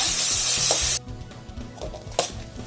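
Onion and tomato fry in a pan, starting with a loud burst of hissing sizzle that drops off suddenly, followed by quieter frying crackle and a few scraping stirs of a spoon, close by with no talking.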